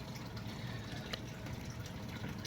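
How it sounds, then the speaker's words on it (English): Water being dumped out during a test of TDS and pH water testing pens, a continuous rushing, splashing pour with faint drips, steady and close with no voices. "the water's dumping right now"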